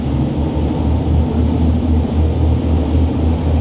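Voyager T2000 boat engines roar steadily at full throttle, a loud, close, heavy drone with a rhythmic low pulsing and a faint high whine riding over it, no voices.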